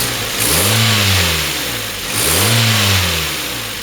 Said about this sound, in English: Just kind of do some revving from in here, just warm up the engine